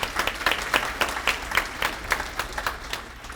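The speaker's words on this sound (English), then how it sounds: "let's applaud for that." Audience applause at an awards celebration where scholarships are handed out: a crowd claps steadily for a few seconds, with individual claps distinct and fairly close, fading slightly toward the end.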